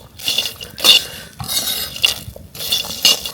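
A metal utensil scrapes and clinks against a pan while spices are dry-roasted for a village-style dry fish sambar, giving repeated close, bright stirring strokes in an uneven rhythm.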